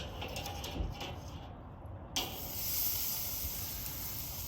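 Steak searing in a hot pan, a steady sizzling hiss that swells after a brief sharp clatter midway, close and fairly quiet, with no talking.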